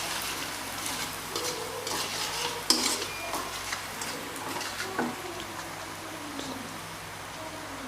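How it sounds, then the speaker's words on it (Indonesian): Chicken liver and tofu sizzle steadily in a frying pan while a utensil scrapes and stirs, with occasional clinks against the metal. "Kita aduk-aduk."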